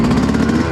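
A Yamaha YZ125 two-stroke dirt bike with an aftermarket pipe and head runs in a brief, steady, loud buzzing drone, held at an even pitch with no voices.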